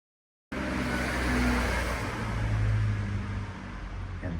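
On a road in Germany, a car engine drones and rushes close by, loud and steady after a sudden start, with no talking over it.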